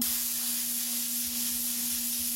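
An airbrush sprays paint in a steady, continuous hiss as a screw head is masked against overspray while detailing a rivet, with a faint low hum running beneath it throughout.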